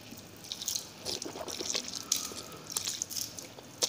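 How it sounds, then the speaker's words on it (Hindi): Water trickles and drips steadily during a ritual wudu ablution as the mouth is rinsed at a sink, a close, soft splashing with no talk. "जब हमने हाथ धोए तो उसके बाद फिर हमने कुल्ली की।"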